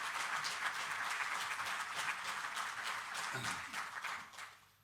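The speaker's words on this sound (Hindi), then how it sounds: "एक बार जोरदार तालियों से हम अपने मुख्यमंत्री जी का स्वागत करें" Dense applause from an audience welcoming the Chief Minister at a health-centre inauguration in Delhi, a steady wash of many hands that holds loud throughout and fades toward the end.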